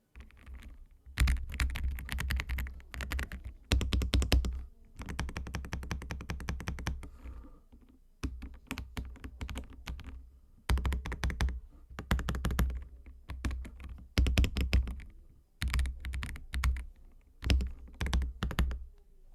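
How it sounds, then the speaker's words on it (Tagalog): Typing on an AULA F87 mechanical keyboard, heard up close as steady bursts of crisp key clacks with short pauses between runs, with no talking. "So here is a quick sound of the Ola F87's typing experience."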